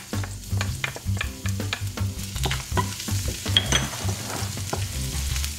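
Garlic hitting hot olive oil in a pan, a loud, busy sizzle with rhythmic stirring and scraping strokes and a low, uneven rumble throughout.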